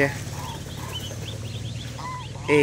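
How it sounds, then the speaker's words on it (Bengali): Geese and small goslings in an Indian village setting, with repeated short honks and calls under a steady background rumble, and a louder burst of honking at the end. "আর এখানে ছোট ছোট রাজহাঁসের বাচ্চা এবং রাজহাঁস, বড় রাজহাঁস।"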